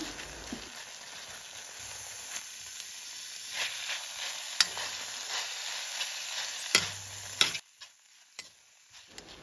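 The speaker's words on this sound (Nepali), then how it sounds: "अघि फ्राई गरेर राखेको च्याउलाई राखेर राम्रोसँग चलाउनु होला" Pre-fried mushrooms are stirred into sizzling chili-powder spice masala for a Nepali-style mushroom curry, with scraping spoon strokes and occasional clatter over a steady hiss that drops away sharply near the end.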